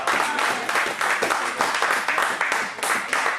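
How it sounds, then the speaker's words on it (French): Church worshippers applaud and cry out loudly in praise, a thick, continuous burst of clapping and cheering with voices mingled in, close and energetic throughout. "acclame encore très fort le Seigneur"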